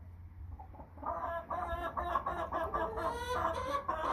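American Bresse chickens cluck in their pen, with a busy overlapping chorus of clucks and calls from several birds close by and no talking.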